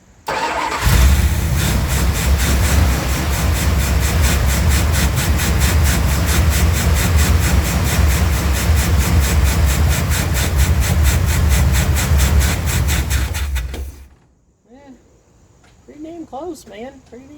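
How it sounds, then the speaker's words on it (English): A hard-starting vehicle engine cranks and catches, then roars loudly and unevenly for about thirteen seconds as the throttle is pumped. It cuts out abruptly, leaving quieter knocks and a voice. "I'm going to try to keep it running as best I can by pumping the throttle"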